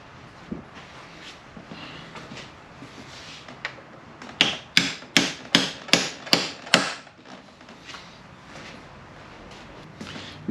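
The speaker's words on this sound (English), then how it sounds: "Let's get you a socket that fits around it and tap it in." A socket is tapped with a hammer to seat a linkage seal on a Roto Hydramatic transmission compensator. About seven sharp, close, evenly spaced metallic knocks land in quick succession, with quieter handling clatter before and after.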